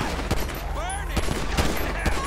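Rapid bursts of gunfire in the police-mod shootout of GTA V, dense and loud throughout, with overlapping shots and electronic whines.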